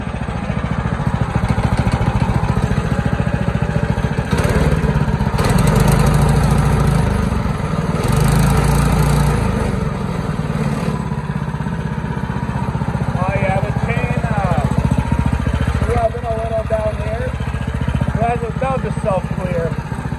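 A 301cc go-kart engine runs loudly and continuously with a buzzing, rattling drone, revving up and down slightly, while voices talk over it.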